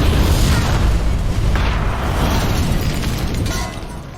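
A bomb goes off in an action film scene: a loud, deep boom followed by a sustained rumbling roar that slowly fades over several seconds.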